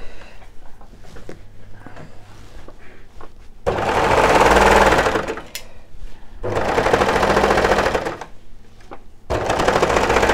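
Sewing machine stitching a sweatshirt sleeve, three loud bursts of rapid mechanical whirring chatter separated by quiet pauses with small handling clicks and fabric rustle.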